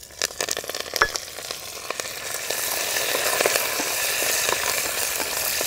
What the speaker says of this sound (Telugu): ఇదంతా 1 నిమిషం వేయించుకున్న తర్వాత 3 ఎండుమిరపకాయలు, కొద్దిగా కరివేపాకు కూడా వేసుకుందాం.